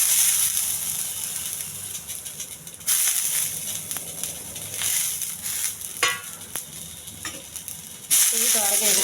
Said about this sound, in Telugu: ఇది త్వరగా వేయించాలి